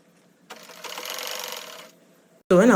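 A sewing machine stitches halter neck dress fabric in one short, even run of rapid needle clatter lasting just over a second, followed by a brief loud sound at the very end.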